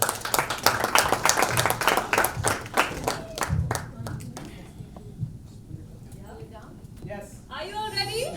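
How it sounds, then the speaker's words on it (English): Applause from the audience at a book launch event, dense clapping at first that thins into scattered claps, followed by voices talking near the end. "a round of applause for them, please."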